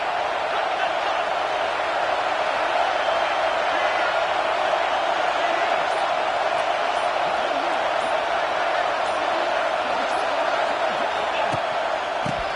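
Dense football stadium crowd roar during a game, a steady loud wash of cheering that holds at constant level throughout with no clear breaks, with talk faintly mixed in.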